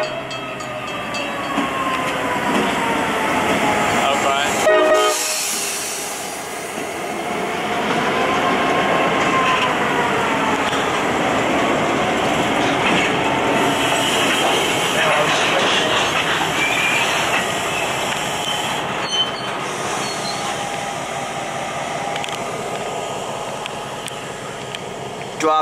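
Freight train shoving cars through a rail yard, a steady rolling rumble with wheel and coupler noise close by, continuing without pause and with no talking.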